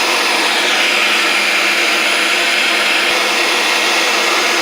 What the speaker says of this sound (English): It helps go so much easier through the grinder, just like that.